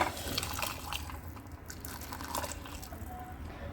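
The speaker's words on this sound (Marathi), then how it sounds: "चला आता गरम पाणी घालते ह्याच्यात" Hot water is poured into ragda simmering in a pot, giving a steady, fairly quiet splashing and trickling that runs through the whole stretch with no talk.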